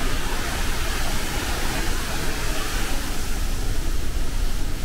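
Niagara Falls roars from inside the tunnel behind the falls, a deep, loud, unbroken broadband rush of falling water close by that fills the space.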